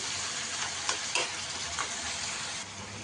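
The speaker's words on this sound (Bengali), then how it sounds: "এবার ভালো করে একটু নাড়াচাড়া করে নিই আগে কচুর শাকটা।" Taro leaves (kochu shak) being stirred in a pan for a hilsa-head dish, giving a steady broadband sizzle with a few brief scraping pushes of the spoon, fairly close and continuous.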